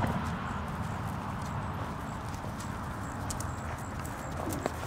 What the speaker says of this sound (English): Pretty little canter.